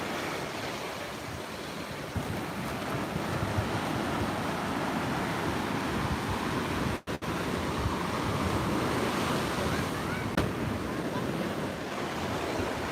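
Surf rolls steadily onto a Florida beach at Ft. Pierce near the jetties, a continuous loud wash of breaking waves with wind buffeting the microphone and one brief dropout midway.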